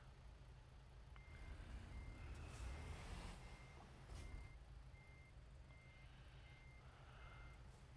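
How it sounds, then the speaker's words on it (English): A truck in American Truck Simulator reverses, its backup alarm repeating evenly spaced high beeps over a low steady engine rumble, faint and somewhat distant. "truck. Why are you backing up?"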